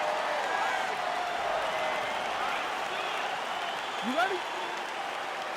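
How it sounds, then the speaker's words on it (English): Crowd noise from the EA Sports UFC 4 fighting game: a steady arena roar with scattered whistles, heard under a short line of speech near the middle. "You hear the crowd"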